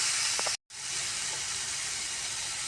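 Boiled, drained macaroni hits a hot pan with soy sauce, giving a steady, close sizzling hiss that continues unbroken apart from a brief gap.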